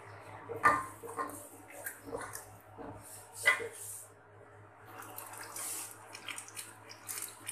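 Water poured into an onion, garlic and ginger paste while cooking chicken lazeez, a faint soft splashing and trickling in short bursts over a low kitchen hum.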